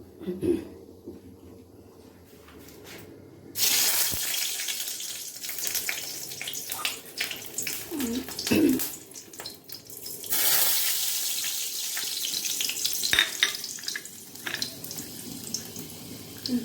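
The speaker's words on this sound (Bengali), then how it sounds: "তেলে শুকনো লঙ্কা দিয়ে পাঁচফোড়ন দিলাম।" Dried chillies and five-spice hit hot oil for a mixed vegetable curry, bursting into loud, hissing sizzles in two long waves with quieter pauses between them.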